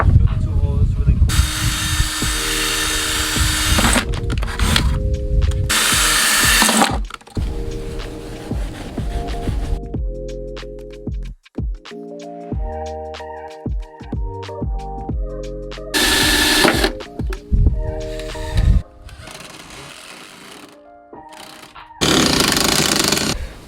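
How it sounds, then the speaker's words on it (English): A power drill bores holes while a carbon diffuser is fitted to a BMW F8X car, coming in loud, whining bursts with pauses, and people talk in the gaps. "Drill the 2 holes really cool."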